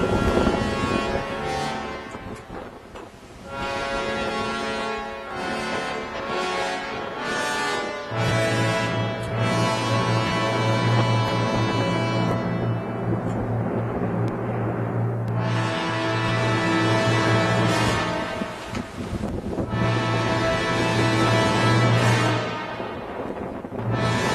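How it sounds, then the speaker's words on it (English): Heavy 50 to 55 knot winds roar across the open sea about 150 miles west of Cape Horn, a loud, continuous gusting rush over a steady low hum from the vessel. "The heavy winds of 50 to 55 knots during David's party."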